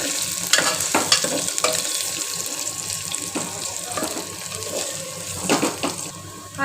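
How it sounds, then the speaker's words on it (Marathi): A spoon stirs dal khichdi with curry leaves in a hot pan, giving repeated scraping strokes over a soft wet sizzle, close and fairly loud. "आपण याला चांगलं मिक्स करून घेतोय"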